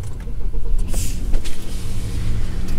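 A car engine is started with a foot on the brake and the start button pressed, producing a close, loud low rumble with a brief whirring burst partway through, continuing as a steady idle.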